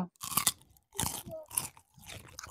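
A fried okoy fritter from Cebu gets bitten and chewed close up, with loud, crisp crunches coming in several bursts separated by short pauses, and no speech over it.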